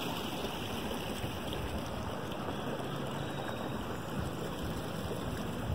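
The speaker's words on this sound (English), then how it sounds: "It's so nice to hear the sounds of the water flowing." A continuous, even wash of water flowing in a canal, soft and steady, with no voices and no other sounds standing out.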